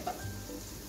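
Mutton pieces frying with ginger-garlic paste in a pan over a medium gas flame, a soft steady sizzle with faint stirring scrapes, quiet and close throughout.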